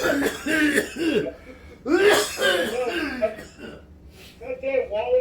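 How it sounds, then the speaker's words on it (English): A person coughs and clears their throat several times in quick bursts, close and fairly loud, with speech-like vocal sounds between the coughs. "That might have been a corona cough, that last one."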